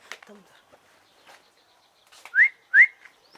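A person whistles two short rising notes close by, after faint scattered talk and rustling in a quiet room.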